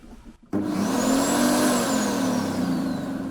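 A Vitals garden branch chipper motor kicks on abruptly with a soft start and ramps up to a steady, loud whirring hum with a rising whine.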